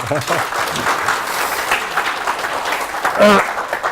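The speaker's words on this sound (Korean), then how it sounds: "이럴 때 박수 한 번 더 쳐주시면." Audience applause during a lecture, clapping throughout with voices talking over it.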